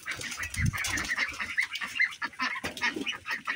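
Several farmyard ducks give repeated honking quacks close by, in uneven bursts over a quiet background, with no talking.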